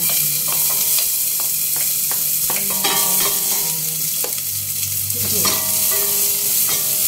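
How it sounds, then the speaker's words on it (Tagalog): Onion sautéing in a pan as the first step of a Greek baked orzo, a loud steady sizzle throughout with repeated scraping and clinks of a utensil stirring against the pan. "Yung gagawin natin muna, onion muna, igisa natin sa onion, ha?"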